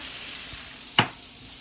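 Food sizzling as it fries in hot oil in a pan while making a harvest hash, a steady soft crackle with one sharp louder burst about a second in.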